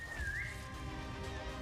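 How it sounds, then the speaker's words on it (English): A video game character in Limbus Company whistles a short sliding tune over a low, steady background hum, faint and fairly brief. "She's whistling."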